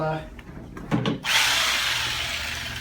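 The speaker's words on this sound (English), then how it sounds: "Makita drill, Makita vibro unit to loosen up some of these muscles." A Makita drill-style vibration massage unit whirs into a steady buzzing vibration after a few brief knocks and rustles, continuing loud and close, used on a patient's muscles during a chiropractic session.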